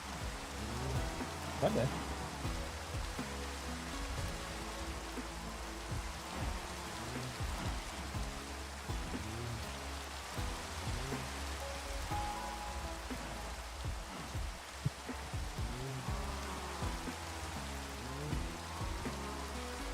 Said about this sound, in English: Let's have some rain.